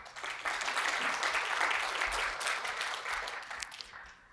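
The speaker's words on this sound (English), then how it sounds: "give you all a huge round of applause for being here" A summit audience gives a sustained round of applause for a product management talk, steady dense clapping throughout that tapers off at the end, with no talking over it.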